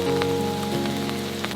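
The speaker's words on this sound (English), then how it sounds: "plus the sound of rain outside." Rain falls steadily outside a wilderness shelter, a continuous patter with scattered louder drops and a low steady hum underneath.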